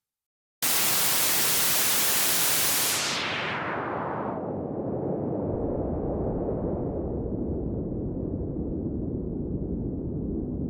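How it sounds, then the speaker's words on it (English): Loud, steady white noise hisses, then its bright top is gradually filtered away into a deep, warm brown-noise rumble that continues evenly, with no voices. "First, white noise that gets gently shaped into a brown noise base, EQ'd until it feels warm instead of harsh."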